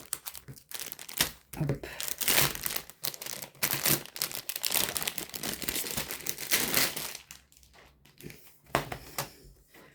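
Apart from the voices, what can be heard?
opening a Temu parcel, crinkling packaging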